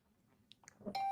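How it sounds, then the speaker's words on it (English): A doorbell chime in the video game Hundred Line Academy rings as two or three short bright tones, followed by a sustained electronic note that holds loud to the end. "But then my doorbell started ringing."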